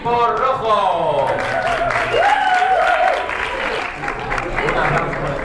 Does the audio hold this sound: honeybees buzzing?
no